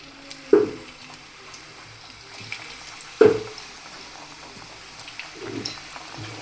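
Bajra flour fritters dropped into hot oil, giving a few sharp splashy hits followed by a soft steady sizzle, close and fairly quiet with no talk.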